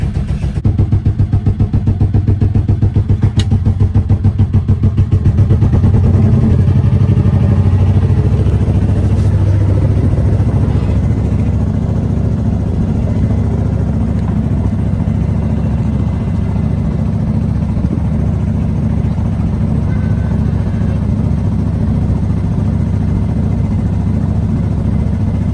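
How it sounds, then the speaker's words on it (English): The engine of a 70-year-old 28 ft timber yacht idles after warming up for about ten minutes: a loud, steady, close low rumble with a constant throbbing beat and no talk. "the engine's been running for about 10 minutes now, so I've just put it into idle"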